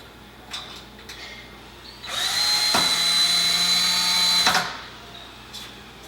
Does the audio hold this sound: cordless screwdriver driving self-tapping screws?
yes